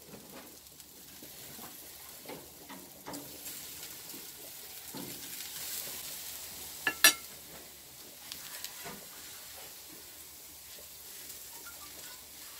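Pork chops cooking over embers on an outdoor grill at a country house, a faint steady sizzle with light crackles and a couple of sharp clicks or taps partway through.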